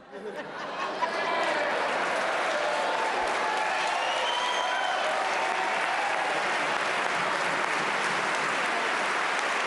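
Audience applause at a governor's budget address, a dense, sustained clapping from a large crowd that starts abruptly and continues steadily, with faint talk and scattered voices mixed in.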